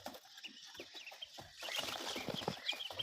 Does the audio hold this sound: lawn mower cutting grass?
no